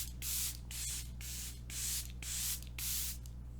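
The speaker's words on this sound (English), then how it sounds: "Let's spray it." Fine fragrance mist sprayed from a perfume spray bottle, a quick series of about five soft, airy hissing bursts in a steady rhythm, close up with a low background hum and no talking.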